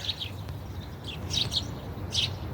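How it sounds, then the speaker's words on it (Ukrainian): Faint birdsong outdoors: scattered high chirps and short tweets in small clusters over a low background rumble, with no one talking. "як пташки співають"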